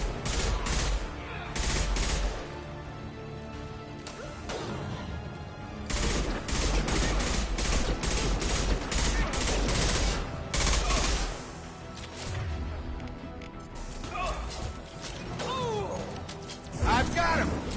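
Gunfire rattles through a Mass Effect 2 firefight, with dense bursts of automatic shots and heavy impacts in loud waves, easing for brief lulls and then surging again, under intermittent talk.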